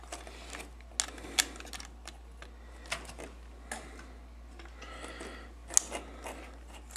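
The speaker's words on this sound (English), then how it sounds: "folding the wheels in." Plastic Transformers Cannon Bumblebee toy wheels fold inward in a series of small, sharp clicks and ratchets, scattered irregularly and close, with quiet gaps between them.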